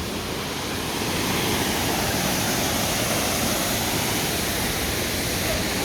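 Waterfall at Manyueyuan National Forest in Taiwan, a steady, loud broadband roar of falling water that fills the whole stretch without pause, close by and alone.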